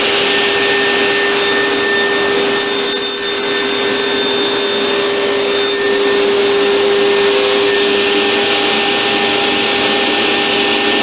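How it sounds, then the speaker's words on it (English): A woodshop dust collector pulls air hard through its chute while trimming edge banding, producing a loud, constant suction roar with a faint steady whine and no talk. "my piece was short enough to where the edge banding went into the dust collection chute"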